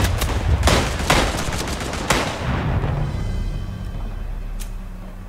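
Gunfire in the WWI shooter Tannenberg, set on a Romanian front: several sharp rifle and machine-gun bursts crack out close over a constant battlefield rumble, tapering to quieter distant shots.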